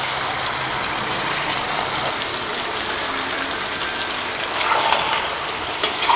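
Mutton karahi, about two kilos, sizzles and fries in a large wok with spices, a loud steady hissing crackle that swells slightly near the end, with no talking.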